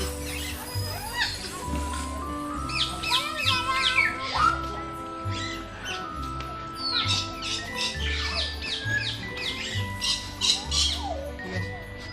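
Parrots in an aviary at Bangabandhu Safari Park, Gazipur, squawking and chirping in repeated shrill bursts close by, while people talk and children's voices carry underneath.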